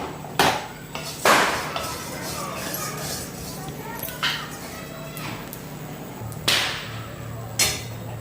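Coriander seeds, cumin and ajwain roasted together in a pan for chakli flour, with sharp metallic scrapes and clinks of a spatula against the pan recurring irregularly over a steady low hiss, close up.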